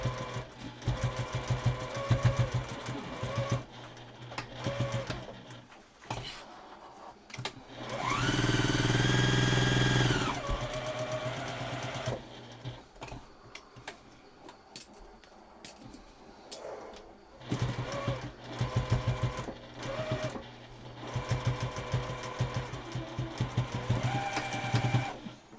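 A domestic sewing machine stitching a face mask pattern whirs steadily in bursts, with one louder, sustained run in the middle and short pauses between passes. No one speaks.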